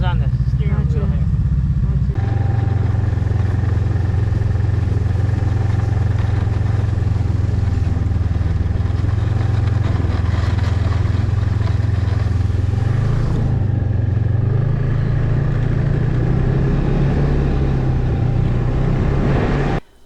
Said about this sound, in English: We are driving Lynx snowmobiles, which are manufactured in Finland